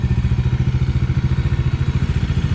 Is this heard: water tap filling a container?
no